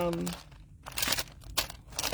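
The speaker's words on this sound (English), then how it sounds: "you could just use a thick plastic bag that stuff does come in" A thick plastic craft-supply bag being handled, crinkling and crunching in short irregular bursts close by, with a voice speaking at the start.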